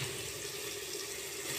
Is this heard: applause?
no